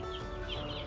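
Chickens in a coop cluck close by, a short, dense stretch of overlapping fowl sounds with no talk over them.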